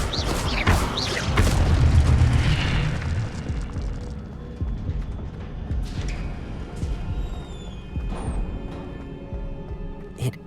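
An Incendio fire spell in Hogwarts Legacy erupts with a loud, deep whooshing blast near the start, then fades into crackling and softer magical effects.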